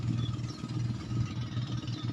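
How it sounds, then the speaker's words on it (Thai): A tractor engine runs steadily with a low, rumbling drone and slight clatter, constant throughout at moderate distance. "มีเสียงรถไถ"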